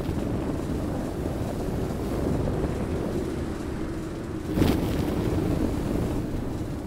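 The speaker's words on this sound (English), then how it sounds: "Sounds like a windy planet" Steady wind whooshes across a planet in the Astroneer video game, a continuous broadband rush with a brief louder gust near the end.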